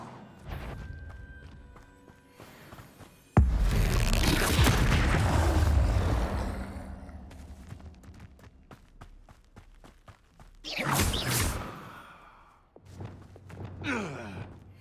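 Confringo fire-spell blasts in the Hogwarts Legacy video game, with a sharp booming burst that roars and fades over several seconds, later followed by further shorter whooshing impacts amid game sound effects.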